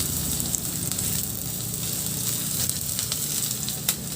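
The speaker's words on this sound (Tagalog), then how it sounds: "Maglagay ako ulit ng konting mantika sa kawali at igisa ko na rin yung bawang." Garlic and onion sauté in oil in a pan, a dense, continuous sizzle with occasional light crackles and faint stirring, close-up and without speech.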